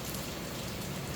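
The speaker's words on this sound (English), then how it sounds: "The rain is pouring down." Heavy morning rain pours down in Jamaica, a dense, continuous hiss of drops hitting surfaces close by, steady and even without pause.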